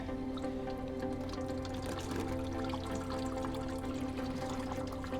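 Coolant draining from the coolant tank of a Saab 9-3 makes a steady liquid pour and trickle, continuous and close, with a faint drip-like texture and no voices.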